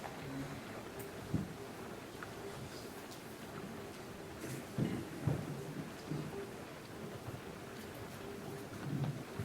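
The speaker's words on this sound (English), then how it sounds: "I think the best service really would be to just listen to the rain" Steady rain falls throughout, a dense broadband hiss with occasional louder spatters and soft low rumbles like distant thunder, continuous and fairly near with no talking.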